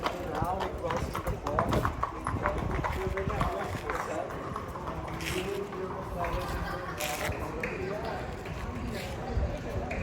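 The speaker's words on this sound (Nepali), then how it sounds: "यो घोडा एक्का चाहिँ खुब मन पर्यो मलाई" Hooves of a horse pulling an ekka carriage clip-clop steadily on pavement outdoors in Austria, a brisk rhythmic clatter with a voice speaking over it.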